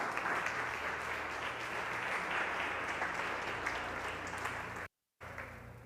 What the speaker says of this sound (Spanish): Dale un aplauso para Cristo.